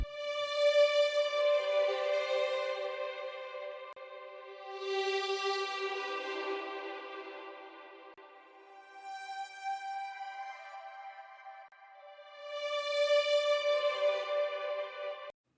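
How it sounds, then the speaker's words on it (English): Swelling bowed cello or violin tones, reversed, rise and fade in slow waves, three long swells with airy, echoing effects, fairly quiet and alone. "play the normal version of, say, cello or violin, and then reverse that"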